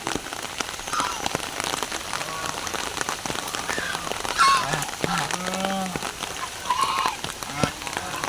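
Steady rain falls across a village setting, a broad continuous hiss of drops on surfaces throughout, with faint voices and a goose-like honk surfacing briefly in the background.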